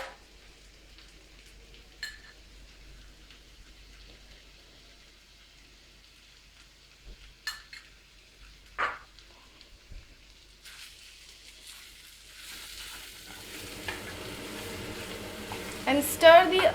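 Arbi (taro) frying in a pan with garam masala, mostly quiet with a few scattered scrapes of stirring, then a soft sizzle building toward the end with sharper clinks at the finish.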